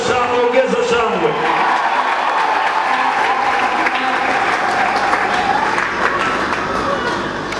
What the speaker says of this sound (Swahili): Ongeza makofi, ongeza vigelegele, ongeza shangwe